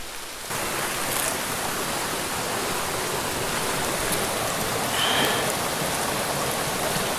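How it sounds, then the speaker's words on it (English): A mountain creek flows steadily close by, a broad continuous rush of water that sets in after a brief quiet start and holds constant to the end, with no voices. "Let's go back down to the creek."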